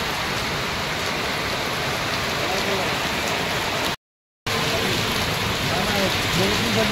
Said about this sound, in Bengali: খুব বৃষ্টি থামার নাম নাই